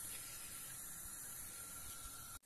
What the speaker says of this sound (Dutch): Nou, het staat al lekker te koken.